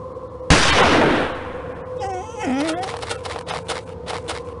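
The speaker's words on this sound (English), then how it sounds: "The gunshot seems to have frightened him off." A single sharp gunshot cracks out in a video game and decays into a fading echo, followed by faint shuffling and a drawn-out animal cry in the background.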